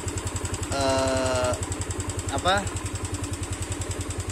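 A motorcycle engine idles with a steady, even pulse after a leaking carburetor was fixed, running close by under spoken commentary.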